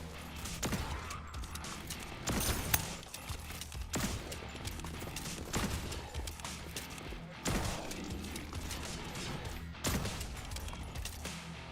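Gunfire in the PC shooter Turbo Overkill, rapid bursts and repeated heavy shots with clanking mechanical effects throughout, fairly loud and continuous.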